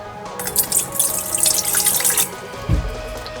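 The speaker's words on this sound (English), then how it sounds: "you're gonna start with 380 grams of warm water" Warm water runs steadily into a vessel for a couple of seconds while making bagel dough, then stops, followed by a soft low thump.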